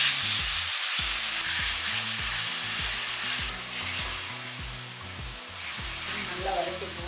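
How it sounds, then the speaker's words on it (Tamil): Tomato paste and onions sauté in a pan for a bitter gourd and mochai tamarind kuzhambu, making a dense hiss with rhythmic low spoon taps and scrapes repeating every half second or so, up close. "நல்லா வதக்கிக்குவோம்."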